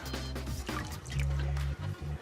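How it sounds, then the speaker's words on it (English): A powerful shower runs with a steady, rushing spray of water and a low droning undertone, continuous throughout with no voices. "It is quite a powerful shower, so beware."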